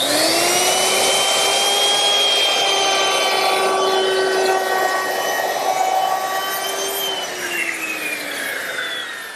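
A handheld router cuts a bull-nosed edge along a wooden board, a loud steady high whine with strong harmonics holding for about nine seconds before the pitch sags slightly near the end.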